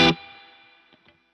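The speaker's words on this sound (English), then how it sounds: "This first setting is plate reverb." Electric guitar through a Source Audio Ventris reverb pedal on its plate reverb setting: one strong struck chord whose bright plate reverb tail decays smoothly for over a second, with a couple of faint string touches near the end.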